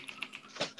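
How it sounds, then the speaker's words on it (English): Brief burst of computer keyboard typing, a handful of quick, quiet key clicks. "Bullshit, you're typing."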